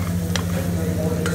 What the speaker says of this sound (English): Saute till it gets translucent